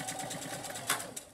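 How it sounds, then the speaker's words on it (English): A sewing machine stitches a cotton fabric surgical mask with a steady, close, fast needle rhythm, plus a brief mechanical clack near the end. "And then I'm going to stitch about 2 inches from where I started."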